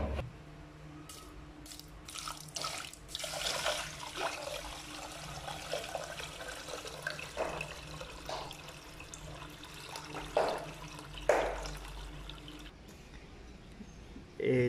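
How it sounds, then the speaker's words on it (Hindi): Water splashes and trickles into a can while lemonade is mixed with salt and sugar, faint uneven pouring and dripping sounds coming in spurts, with occasional clatter and voices in between. "ये पानी शामिल करा दे कैन च"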